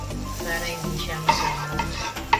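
Chicken wings sizzle and fry in a hot pan for a garlic parmesan flavor, with a steady crackle punctuated by sharp metallic clinks of stirring against the pan, close and without talk.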